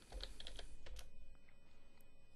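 Quick run of keystrokes on a computer keyboard while a zoom value is entered in a PDF viewer, a handful of light close clicks in the first second, then quieter hum with a stray tap or two.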